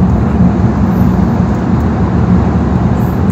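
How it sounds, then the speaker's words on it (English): Dense, steady roar of car traffic echoing inside the Lærdal Tunnel in Norway, the world's longest road tunnel, loud and continuous with a heavy low rumble and no voices. "the sound of the cars, it's enclosed inside the tunnel"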